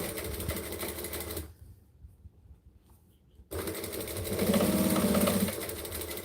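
Domestic sewing machine running a top-stitch seam in two bursts separated by a short pause, a steady close mechanical whirr that quickens and grows louder in the second run.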